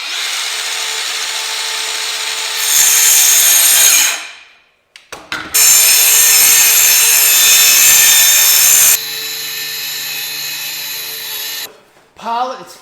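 A DeWalt DCS571 20V brushless cordless circular saw cuts in two loud, close bursts of several seconds each, dropping to a quieter run and brief pauses between cuts, with no talking over it.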